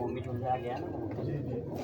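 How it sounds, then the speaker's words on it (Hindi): Kasni pigeons coo softly and continuously, a low, murmuring warble that is close but quiet. "ये कासनी कमगर कबूतर हैं"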